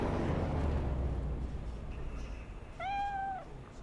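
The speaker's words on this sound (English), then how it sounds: "Looks like a Sphinx cat." A Sphinx cat in the video game Cyberpunk 2077 gives one clear, drawn-out meow near the end, close and fairly loud over a steady low background hum.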